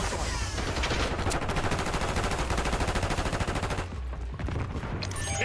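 Rapid, loud gunfire from a Call of Duty match, shotgun and sniper shots blending into a dense, continuous burst of shots that holds for several seconds before a brief dip and another short volley.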